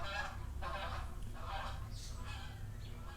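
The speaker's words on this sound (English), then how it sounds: "That was just a goose. He's just flying over, honking." A single goose honks repeatedly as it flies overhead, a series of roughly regular, somewhat distant calls over a steady low background rumble.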